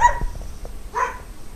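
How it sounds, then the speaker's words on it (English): Dogs barking nearby, a few sharp barks and a short whine-like yelp in quick succession, fairly loud and close. "I hope you're enjoying listening those dogs"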